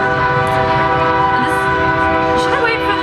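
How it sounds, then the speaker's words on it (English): A train passes close and loud, its horn sounding in a steady, sustained chord over rumbling wheels. "Should I wait for the train?"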